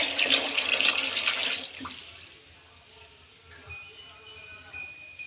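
Water runs and splashes into a cooking pot for upma, a steady pour loudest over the first two seconds before fading to a quieter trickle and light kitchen sounds.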